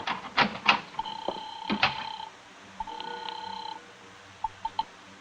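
A telephone rings with a couple of electronic trilling bursts, mixed with clicks and knocks of handling nearby.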